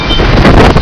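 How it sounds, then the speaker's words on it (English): A strong 70 mph wind gust ahead of an approaching shelf cloud on a cold front in Oldham County, Kentucky, roars loudly and continuously across the microphone. "That's a good 70-mile-an-hour gust right there."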